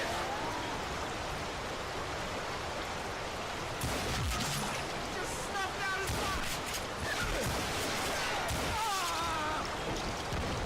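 Rifle gunfight in Call of Juarez: Gunslinger at a sawmill, scattered gunshots and rattling fire over a constant noisy game backdrop, with a voice speaking at moments.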